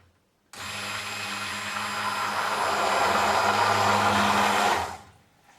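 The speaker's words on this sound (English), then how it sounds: "If you give it a good stir like this, using this stick blender, it speeds things up actually." A stick blender whirs steadily in raw soap mixture, a loud, close motor drone that starts abruptly, runs for about four seconds and then winds down.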